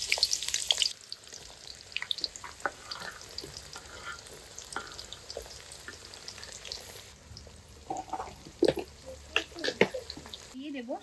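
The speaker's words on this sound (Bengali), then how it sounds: "দিয়ে ভালো করে এগুলোকে আমি গোল্ডেন ফ্রাই করে নেব।" Chopped onions frying in oil with whole garam masala spices, a faint sizzle with intermittent stirring clinks and scrapes in a kitchen, and a brief burst of louder hiss at the start.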